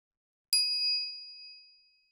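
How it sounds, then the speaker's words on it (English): A single bright ding rings out from the phone wave device in the Steins;Gate video game, then slowly fades into silence. "the best we could muster was a series of dings from the phone wave"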